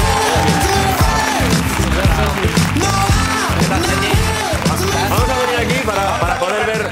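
Loud, sustained audience applause and cheering for the artist Sergi Cadenas, a dense wash of clapping that runs unbroken for the whole stretch, with music or voices mixed in underneath.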